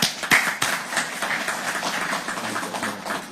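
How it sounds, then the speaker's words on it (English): A small group claps for a presenter at a training session, a loose patter of hand claps with a few sharper near taps, steady and moderately loud throughout. "ladies and gentlemen, big round of applause for Paul."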